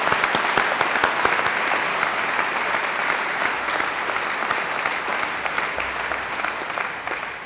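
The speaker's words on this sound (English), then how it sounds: "Everyone please join me in giving them a round of applause." A graduation ceremony audience applauds its new graduates in a long, dense, steady wash of clapping from many hands that holds strong throughout, with no talk over it.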